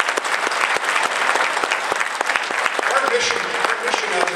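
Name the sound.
audience applause for graduates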